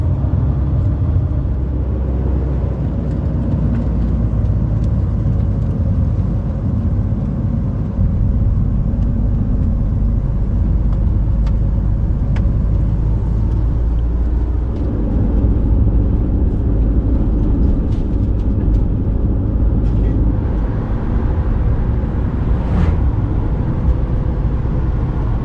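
A camper van driving on a mountain road in the Balkans, a constant loud low engine and road rumble heard from inside, steady throughout with a few faint rattles.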